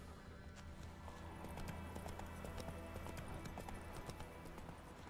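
Horse hooves clip-clop in The Witcher 3: Wild Hunt, a quick, even run of hoofbeats at a moderate distance. The beat keeps going steadily throughout, with no speech over it.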